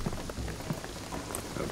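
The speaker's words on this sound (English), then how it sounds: "the rain is gonna flood the beach" Steady rain pattering on a surface in the video game Shadow of the Tomb Raider, with scattered drops tapping throughout and no voices.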